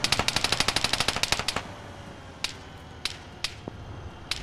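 Rapid automatic gunfire in The Last Man 2 combat game, a fast burst of about fifteen evenly spaced shots followed by several single distant cracks spaced a second apart.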